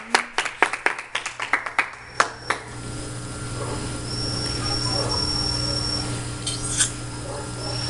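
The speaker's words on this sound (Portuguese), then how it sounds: "Uma salva de palmas para Jesus Cristo nessa noite" Congregation at an evening church service claps in a burst of sharp, scattered handclaps over roughly the first two and a half seconds, then the claps thin out into a steady room rumble with faint murmuring.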